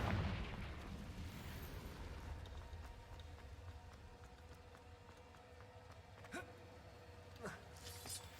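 A Confringo fire spell blast in Hogwarts Legacy booms out amid dense, rumbling game combat, followed by sharp cracks a little later.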